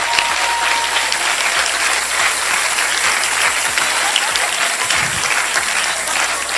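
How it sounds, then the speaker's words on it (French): Audience at a church sermon applauding, a sustained dense wash of clapping that stays loud and even from start to finish, with little talk beneath it. "Vous méritez les acclamations."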